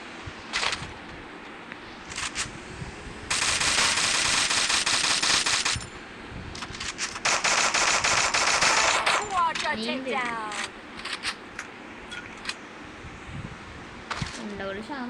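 Bursts of rapid gunfire from a game, two long loud volleys of several seconds each, with scattered single shots and clicks around them and voices talking over parts of it.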